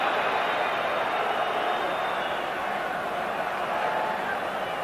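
Rugby stadium crowd at the 1995 Rugby World Cup match between Scotland and Tonga, a steady broad roar of displeasure filling the air, sustained and loud throughout.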